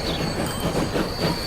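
Trains run in a railway game, a continuous loud rumbling roll of wheels on track with a thin high squeal over it, steady throughout and with no voices.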